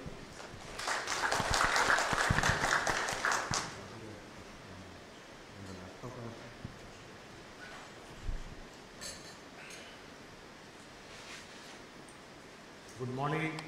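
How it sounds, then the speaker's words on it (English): Audience applause welcoming a keynote speaker at a procurement excellence conference, a dense burst of clapping for about three seconds at the start, then fading into quieter room noise and scattered speech, with a short swell near the end. "please welcome Pankaj to the big round of applause"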